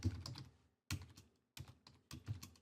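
Computer keyboard typing in quick bursts of clicking keystrokes, close and clear, with short pauses between groups and no talking.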